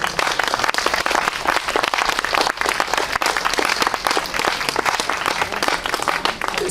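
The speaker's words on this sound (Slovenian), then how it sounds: "še enkrat vas prosim za velik aplavz za skupino" A large audience at an academic book fair opening gives a big, sustained round of applause for the fado quartet Maškara, dense continuous clapping throughout.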